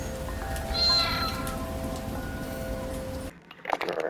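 A cat character meows in the Dreams video game, a clear rising cry early on over a steady hum of game ambience, which cuts away to quieter, sparser sound near the end.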